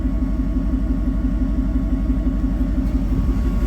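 Car engine on a race track under added throttle, a steady loud rumbling drone with a throbbing low-pitched pulse that holds throughout.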